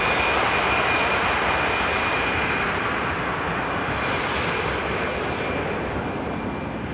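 An airliner takes off at Frankfurt Airport, its engines a loud, steady, broadband roar that holds for the whole stretch with no talk over it.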